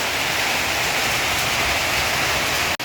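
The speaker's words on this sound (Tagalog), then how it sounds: "Pero malakas pa rin yung ulan." Heavy rain pours down in a dense, steady hiss that fills the whole clip, loud and unbroken apart from a brief dropout near the end, with no voices.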